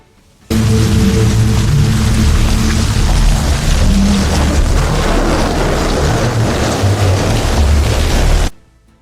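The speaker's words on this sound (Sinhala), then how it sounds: "සවුන්ඩ් එක ජෙනරේට් වෙලා තියෙනවා. නියෝන් එළිය, වැස්ස මේ හැමදේම තියෙනවා." AI-generated rain in a neon-lit scene hisses as a dense, loud, continuous downpour with a low rumble beneath, starting abruptly and fading out at the end.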